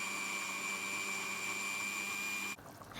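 An electric grinder blends yogurt, green chilies and ginger pieces for a beef karahi, giving a loud, steady whirring motor drone that runs continuously and then cuts off abruptly near the end.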